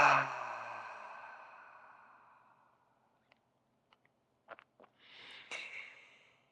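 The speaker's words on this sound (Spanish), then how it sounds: "Una respiración profunda con ese sonido al final." One long, audible exhale sighs out and fades slowly, followed by quiet and a few faint clicks and soft breathy sounds.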